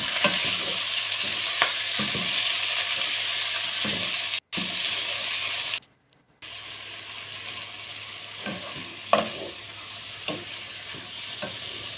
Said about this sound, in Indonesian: kita masukkan sawi yang tadi kita sudah potong-potong. Ini kita tumis-tumis dulu sedikit.